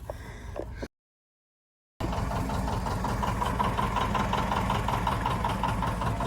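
A rare old tractor engine runs steadily at a tractor parade in Caledonia, New York, a close, continuous idling rumble with a faint knock, cut briefly by a second of silence near the start.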